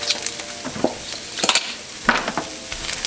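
Vegan ground meat seasoned with onion powder and oregano frying in a pan, steady close sizzle with a spatula stirring and scraping in irregular strokes, no voices.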